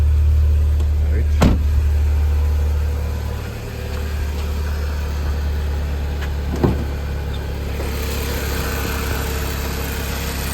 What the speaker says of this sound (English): This car is noisy.